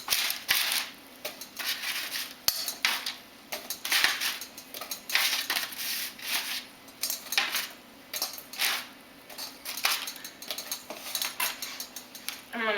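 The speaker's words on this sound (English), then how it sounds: "I'm going to go ahead and stick them into a metal pot" Chicken wings dropped into a metal pot for hot wings, giving a close run of light clinks and clatters against the metal, scattered at irregular intervals over a steady kitchen background.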